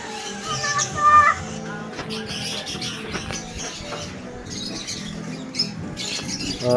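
Pet birds squawking and chirping at a bird-keeping home in the Philippines, scattered calls near and far with rustling and a few faint voices.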